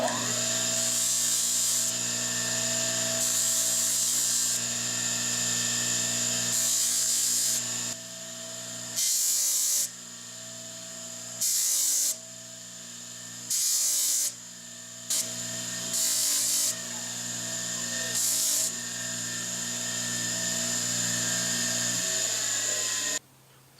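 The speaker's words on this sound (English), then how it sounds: "now I'm just going to sand off the scale and just give it a once over" A power sander whines steadily as it sands scale off a steel knife made from a file, cutting in and out in repeated bursts of a few seconds each, close up with no talking.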